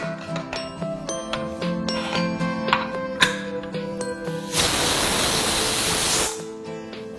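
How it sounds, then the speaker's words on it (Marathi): A pressure cooker on a gas stove, sealed with hing, a bay leaf and a little oil inside, lets out a loud, steady hissing whistle of steam lasting about two seconds. It is heard alone over faint kitchen clinks and ringing tones. "आपल्या 2 शिट्ट्या झाल्यात."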